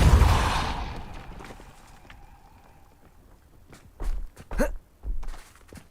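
A Depulso pushing spell is cast in Hogwarts Legacy: a loud whooshing burst that fades over a couple of seconds, then a quiet pause broken by a few dull, close thunks and thuds.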